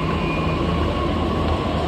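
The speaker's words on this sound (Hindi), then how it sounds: "मेट्रो की वेट में मेट्रो भी आ गई" A metro train pulls into Sikanderpur metro station in Gurugram, a continuous mid-loud rumble with a thin high tone above it, steady throughout with no talking.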